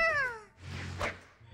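A house cat gives one clear, drawn-out meow close by, followed by quieter rustling and shuffling movement in a room.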